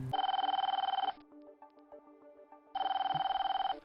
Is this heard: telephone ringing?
yes